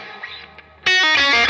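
Distorted electric guitar through a Bad Cat Black Cat amplifier with a little extra drive: a quiet decaying tail, then a loud, sharply struck chord ringing out with a couple of restruck notes, close and without voices.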